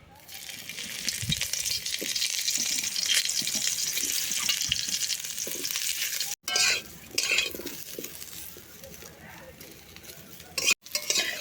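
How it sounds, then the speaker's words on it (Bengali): Cauliflower frying in a pan sizzles up close while a utensil stirs it, adding scraping and light clinks. Two brief cuts interrupt the sound, and no one speaks. "ফুলকপিগুলো এবার ভেজে নেব"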